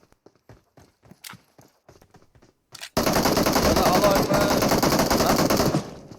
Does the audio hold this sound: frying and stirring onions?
no